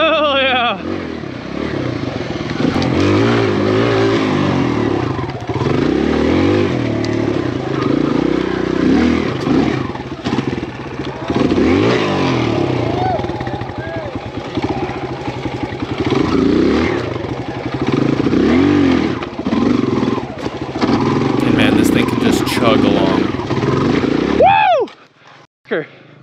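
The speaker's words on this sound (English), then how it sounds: "Bike absolutely just eats up all the hard trails and like all the rough bumps and stuff." Lightest full-sized-wheel 4-stroke dirt bike ridden over rough, bumpy trails, its engine droning and revving steadily and close up for most of the stretch before cutting off near the end.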